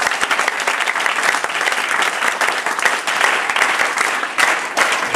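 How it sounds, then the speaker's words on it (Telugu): Schoolchildren in a classroom at a school clap together in a dense, steady burst of applause lasting several seconds, close and lively, with no talking over it. "ఒకసారి గొప్పవాళ్ళమని క్లాప్స్ ద్వారా చూపించండి."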